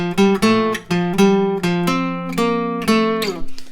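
A run of single plucked acoustic guitar notes, about a dozen, each ringing briefly before the next, clear and close with no voice.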